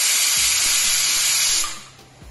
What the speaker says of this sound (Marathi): एक शिट्टी झालीये, तर आपण गॅस बंद करूया.